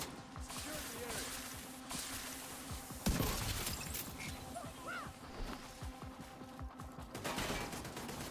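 Gunfire from an enemy turret in The Division 2, with rapid shots and crackling impacts over a busy game soundscape. There is one sharp loud blast near the middle, and the firing continues throughout.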